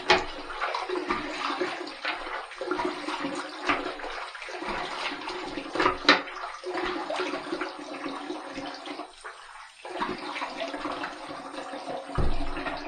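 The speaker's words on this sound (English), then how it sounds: "Okay, let's rinse." Water runs steadily from a tap as a face is rinsed during a wet shave with a stainless steel open comb safety razor, a continuous splashing rush with brief dips and interruptions, close by and moderately loud.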